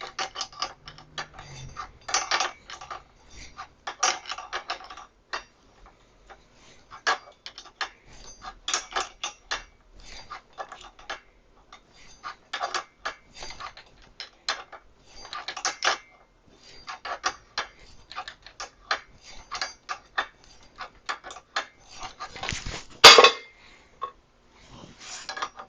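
A part is threaded into a 1980s Hutch Tickstar, producing a long series of small irregular clicks and ticks, close and fairly quiet, with brief pauses and one louder knock near the end. No one talks.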